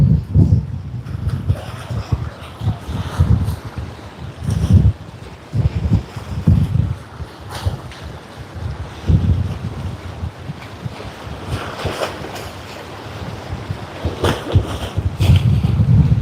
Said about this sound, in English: The weather just compliments, but the wind is way too much today.